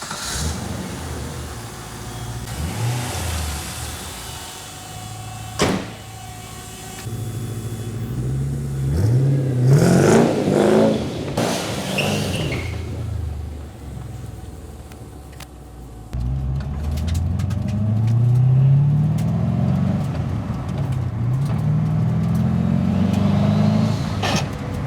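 An R32 Nissan Skyline fitted with a turbocharged LS1 V8 rumbles nearby, building through a surge of acceleration in the middle, then settling into a steady, loud driving drone.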